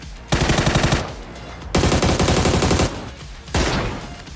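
Repeated long bursts of automatic gunfire in PUBG, three loud rapid volleys separated by short pauses, close and harsh.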